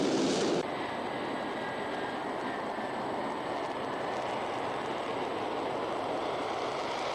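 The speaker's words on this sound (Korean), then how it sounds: "지금 열룡 비행 편대들이 광장 상공으로 날아오고 있습니다." Aircraft formation flying over the square in Pyongyang during the October military parade, a steady, loud broadband roar of jet engines that holds evenly throughout, with no voices.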